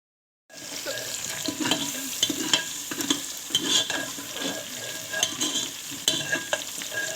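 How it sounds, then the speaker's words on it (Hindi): Seekh kebabs fry and sizzle in hot oil in a pan, a steady close crackling hiss with occasional sharper pops and stirring clatters, starting abruptly after a brief silence. "इसमें सीख कबाब फ्राई करें"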